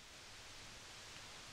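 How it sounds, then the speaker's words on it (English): Steady, even broadband hiss like tape or electronic noise, soft and constant with no other sounds. "hiss control here, which sort of sounds like any tape or electronic hiss"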